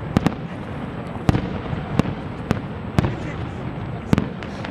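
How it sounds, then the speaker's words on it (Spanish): Distant fireworks rockets from a fireworks castle display crack and bang in an irregular string of sharp reports, some doubled, over a constant low crowd murmur. "no habléis más que los cohetes están hablando"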